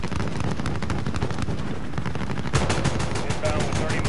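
Rapid automatic gunfire from the Call of Duty: Modern Warfare video game, a dense continuous stream of shots that grows heavier partway through, with radio chatter in the mix.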